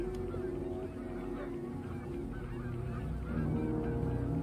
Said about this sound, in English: I think it's coyotes and geese.